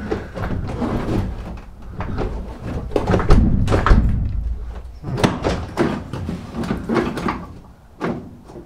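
Several heavy thuds and clunks of a Citroen Relay camper van door being pushed shut, the door not going in far enough to click, repeated in irregular bursts with rattling in between.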